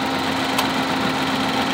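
A car engine idles steadily with a continuous low hum and a faint even vibration, close and unchanging, with no talk over it.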